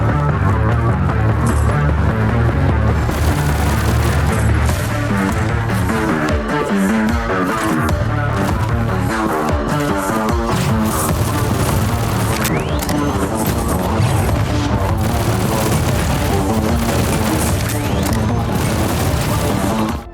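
A dense, loud video game soundtrack from the action shooter Afterblast, with heavy thumping booms, crashes and rapid weapon fire layered continuously over driving music without pause.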